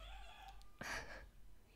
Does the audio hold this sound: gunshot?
no